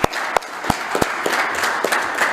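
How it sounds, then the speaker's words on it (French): Scattered applause at a public municipal council meeting, a small group clapping with distinct sharp claps standing out over a steadier patter. "Applaudissements."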